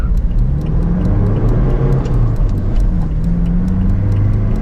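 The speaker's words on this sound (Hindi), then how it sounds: "एक्सेलरेशन देख रहे हैं आप कितना ज़बरदस्त है।" A 2017 Toyota Fortuner 2.8L turbo-diesel 4x2 with manual gearbox accelerating hard in normal mode, a loud steady engine drone with rising pitch sweeps through gear changes, close and continuous without talk.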